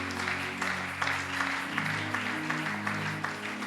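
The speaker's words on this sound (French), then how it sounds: "Est-ce que nous pouvons acclamer le Seigneur?" Congregation clapping in a church service, a steady dense patter of many hands with an organ or keyboard chord sustained underneath, no voices over it.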